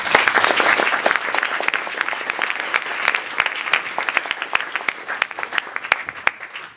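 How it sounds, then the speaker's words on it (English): Sustained audience applause for the panelists at a Stanford Energy Club event, a loud, dense wash of clapping that thins into fewer, distinct claps toward the end. "A big round of applause for our panelists."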